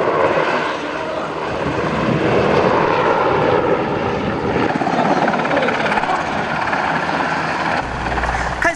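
An S-70C Seagull helicopter flies a figure-eight turn at an air force display, its rotor and turbine roar loud and continuous throughout, with faint talk beneath.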